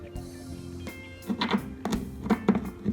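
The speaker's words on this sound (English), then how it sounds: "I'm just finishing up attaching the screws inside of our little cozy hideaway here." An Allen wrench tightens screws on a cat tree hideaway, making a series of close, quick ratcheting clicks and scraping turns in short bursts.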